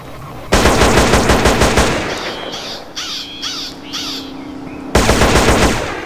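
Modded weapon from a green shark-themed HD gun pack firing in GTA San Andreas: two loud bursts of rapid automatic fire, with a quieter stretch of game ambience and chirps between them.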